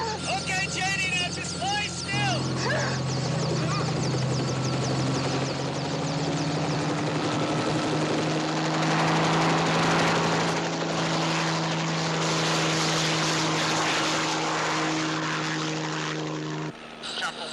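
A helicopter flies close overhead with a loud, steady engine drone and rotor thrum that fills the whole stretch, while people talk over it.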